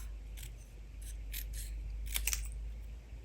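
Scissors trimming the sides and bottom of a half-fold paper card, a series of small crisp snips scattered over a few seconds with a quick cluster near the end, faint over a low steady hum.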